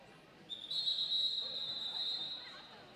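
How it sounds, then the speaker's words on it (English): A single sustained referee-style whistle at a fairgrounds match between Team Indiana and Team Kentucky, blown for about two seconds over faint background crowd noise. "And that whistle means it's time to get back to the action."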